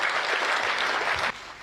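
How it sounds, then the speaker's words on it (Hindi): Audience applause at a live Hindi comedy show, a dense, loud burst of clapping from a crowd that drops off abruptly near the end. "थोड़ा तालियों का उत्सव कर दीजिए"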